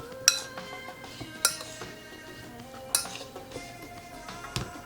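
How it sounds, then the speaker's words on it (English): Chicken being quickly mixed with salt, pepper and olive oil in a bowl for souvlaki, with a few sharp utensil clinks against the dish spaced over soft handling sounds. "just give it a quick mix"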